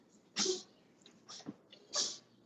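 Two quick, sharp sneezes close by, a second or so apart, with a softer sniff between them in an otherwise quiet room.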